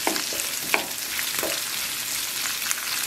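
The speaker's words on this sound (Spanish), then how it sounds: "Y pues así también la carne va a quedar doradita." Ground beef with mushrooms frying in a pan, a steady close sizzle with occasional sharp pops and faint stirring scrapes, no talking.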